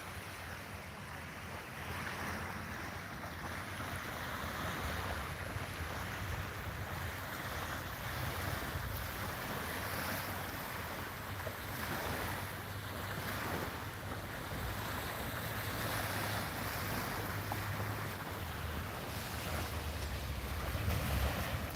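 Sea waves wash up on a beach after settled seas, a continuous, soft surf wash with wind noise on the microphone and no talk.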